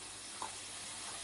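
Spices and homemade dal sambar powder fry in a pan for a drumstick dal sambar, making a faint, continuous sizzle with one small stir-like blip.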